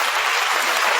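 A Christian congregation at a testimony service claps loudly for God, a brief burst of dense, close applause from many hands.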